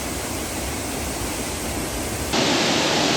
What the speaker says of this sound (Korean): 쌈농캣 폭포입니다.